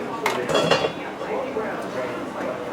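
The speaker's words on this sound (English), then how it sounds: "Time to take the lid off." A metal lid comes off a pot of simmering bolognese sauce with a few quick clinks and a scrape near the start, then a soft, steady bubbling hiss fills the rest.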